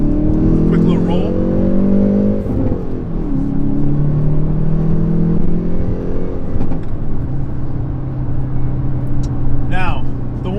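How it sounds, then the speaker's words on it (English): A 2020 Hyundai Veloster N with its factory exhaust drives past, a loud steady engine drone rising and falling through gear changes over about ten seconds, close and continuous. "Now Angelia, she's not planning on doing anything to the exhaust. I mean, because I think honestly it sounds great just from the factory"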